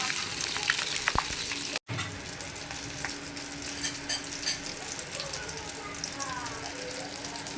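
Taki fish frying in a home-kitchen pan gives a steady, close sizzle and crackle that runs the whole way through, broken only by a brief dropout early on.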